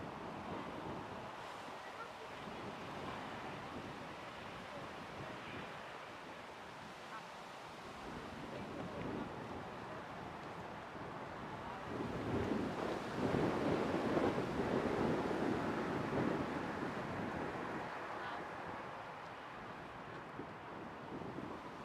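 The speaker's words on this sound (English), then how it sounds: "That windsock is blowing a hoolie down there." Strong wind at Manchester Airport, gusty rushing noise across the microphone that builds into a louder surge midway, then settles back into a steady blustery hiss.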